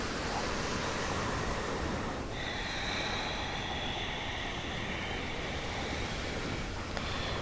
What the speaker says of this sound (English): automatically syncing up with the ebb and flow of the ocean